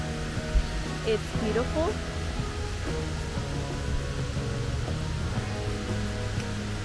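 Horsetail Falls, a waterfall in Oregon, rushes as a steady broadband roar through the whole clip, heard close behind a person speaking briefly over it in a rainy natural setting.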